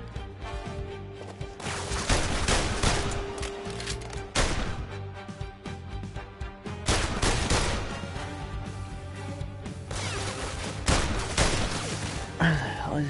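Gunfire in the VR video game PlayStation Worlds: repeated sharp, loud shots and bursts of volleys scattered across the scene, with crashing impacts and some talk in between.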